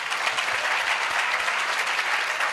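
A church audience applauds a pastor with steady, dense clapping that stays loud and unbroken from start to finish, without any talking.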